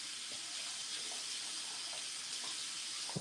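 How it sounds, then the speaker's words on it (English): Tap water runs steadily from a faucet over a toothbrush into a sink, a continuous close hiss of flowing water with a few faint splashes and no talking. "Just kind of run this under the water for a minute."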